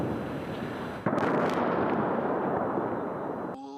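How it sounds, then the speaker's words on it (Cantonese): Airstrike blasts in Tehran, heard as a dense, rumbling roar that jumps sharply louder partway through and holds as a continuous broadband boom before cutting off abruptly. "爆炸聲接連響起，巨大嘅濃煙遮天蔽日"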